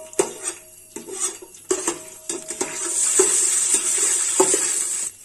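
Cashew nuts dropped into hot oil in a pan, sharp clinks and scrapes of stirring at first, then a steady bright sizzle of frying carrying through, close and fairly loud, no talking.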